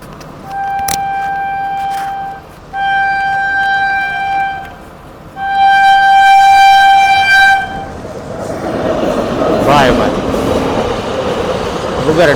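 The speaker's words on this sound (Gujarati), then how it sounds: "માલગાડી છે મિત્રો." A goods train sounds its horn in repeated long blasts at a closed railway level crossing, then rumbles and clatters past close by, the wagons' noise swelling as the horn stops.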